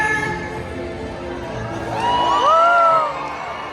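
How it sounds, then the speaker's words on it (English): Stadium audience at a SeaWorld orca show breaks into cheers and whoops, rising from a general hubbub to a loud, close swell of shouting and high whistling voices before easing off. "So when you see him, give him a great big cheer!"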